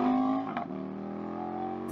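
An Indian FTR 1200 motorcycle engine revs up loudly at first, then settles into a steady idle hum, close and continuous.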